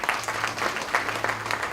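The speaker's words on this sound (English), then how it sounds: "We have to give him another round of applause" An audience at a Ugandan campaign event claps steadily, a dense, even round of applause with a faint voice underneath.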